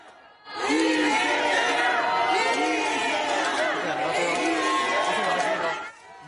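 Crowd of supporters cheering and shouting as Lee Jae-myung leaves court, a loud sustained roar of many voices with rhythmic chanting that swells in and cuts off near the end.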